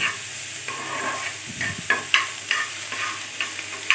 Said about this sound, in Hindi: बस थोड़ी देर के लिए इसको सॉटे करनी है